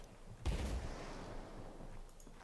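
A grenade goes off in ARK Aberration, a single heavy boom with a low rumbling tail that lingers and fades over a couple of seconds, standing alone without talk.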